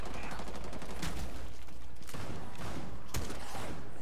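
Gunfire in the zombie-infested Outbreak mode of Rainbow Six Siege, with several sharp shots standing out, notably near one and three seconds, over a busy, dense game backdrop.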